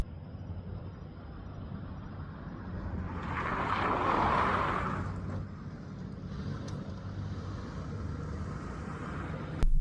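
A car performing a J-turn, heard as steady engine and road noise that swells into a louder rushing surge midway, then settles back to a continuous drone, with no voices.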